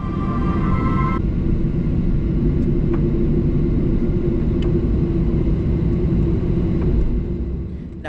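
A Qantas airliner taxis toward runway 34 left, heard from inside the cabin as a steady, loud engine rumble and whine with occasional faint clicks and thumps, continuous and unbroken.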